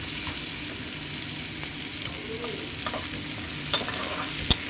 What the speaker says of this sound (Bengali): পেঁয়াজটাকে একটু লাল লাল করে আমি ভেজে নেবো